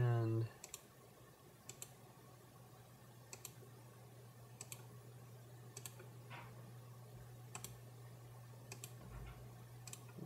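A computer mouse clicks at a slow, regular pace, single sharp ticks about every second or two while roto shapes are drawn in Shake compositing software, over a low steady hum.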